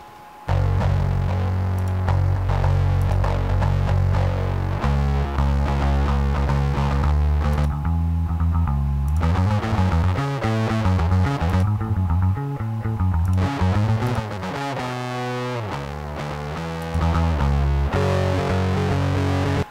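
Distorted, overdriven bass guitar blended with a clean bass tone plays a riff of sustained and bending notes, thick and buzzy with a solid low end, loud and alone with no talking.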